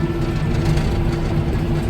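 Mower engine labouring and revving hard while cutting thick grass, a steady close low drone without pause.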